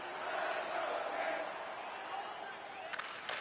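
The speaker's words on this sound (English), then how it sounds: "You can feel the energy in this crowd." Crowd noise from a hockey arena in the video game NHL 25: a steady, loud roar of many voices, with a few sharp knocks near the end.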